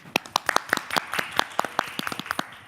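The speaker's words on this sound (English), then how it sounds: "Please give a big round of applause for all of our donors and sponsors" Scattered hand claps from a small group honoring donors and sponsors at a virtual public-schools foundation event, sharp distinct claps in a loose uneven rhythm, fairly close and moderate in volume.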